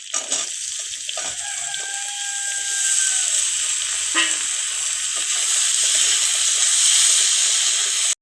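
Potato and eggplant fry in a pan with slit green chillies, giving a loud, steady hiss and crackle throughout, with a brief crow-like call in the background early on.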